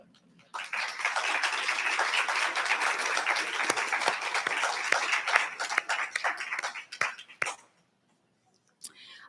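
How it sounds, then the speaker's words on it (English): A crowd at a medical school pediatrics resident and fellow graduation applauds steadily for several seconds, a dense patter of clapping that thins out and fades to a few scattered claps. "Please stand for applause"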